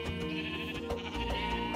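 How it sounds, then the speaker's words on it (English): A video game sheep in a frozen forest lets out short, nasal bleats in quick succession over a soft, steady tonal backdrop, with nobody speaking. "I know I heard another sheep."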